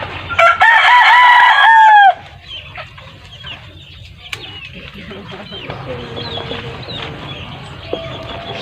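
A rooster crows loudly once near the start, a long strained cry, followed by quieter background noise with faint distant bird and farm sounds.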